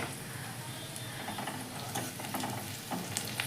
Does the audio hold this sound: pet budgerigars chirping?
no